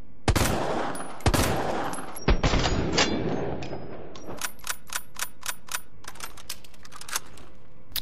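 Lightning Hawk magnum fired in Resident Evil 2 Remake: several heavy, sharp gunshots with long decays early on, then a steady run of lighter evenly spaced clicks and clacks, loud and close with no talk.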